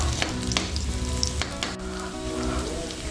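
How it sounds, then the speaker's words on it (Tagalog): Onion sautés in a pan for an Ilocano upo dish, a close steady sizzle with scraping and clinking stir strokes throughout and no talk. "Gisa lang po natin ng saglit yung sibuyas."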